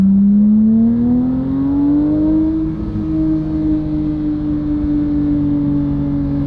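Porsche 992 GT3 fitted with a titanium JCR exhaust accelerating at part throttle, engine note rising steadily in pitch for a few seconds then holding a loud, smooth drone close by, with no talking.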